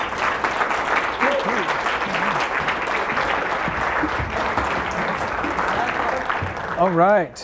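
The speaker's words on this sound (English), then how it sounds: "Let's give a big round of applause for Clay Clark." An audience applauds a motivational speaker in Tulsa, dense clapping throughout while a voice talks over it near the end.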